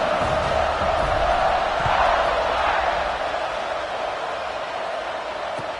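A stadium crowd in a football video game roars with a sustained, dense cheer, loud and steady with a slight fade toward the end, under no clear talk.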